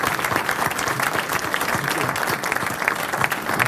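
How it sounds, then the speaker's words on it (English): Steady audience applause at an energy startup pitch event in Boston, a dense wash of many hands clapping throughout, fairly loud and continuous with no one talking over it. "So how about a round of applause for Roger,"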